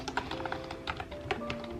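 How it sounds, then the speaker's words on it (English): Typing on a computer keyboard at a home desk, a steady run of close, crisp clicking keystrokes with no talk over it. "this keyboard which sounds so lovely"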